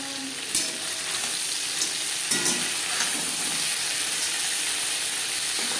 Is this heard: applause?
no